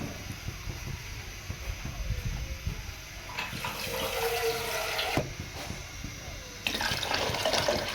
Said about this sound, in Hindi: आपने पानी इसके चावलों का लगा देना है